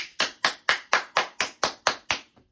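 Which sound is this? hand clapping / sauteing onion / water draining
hand clapping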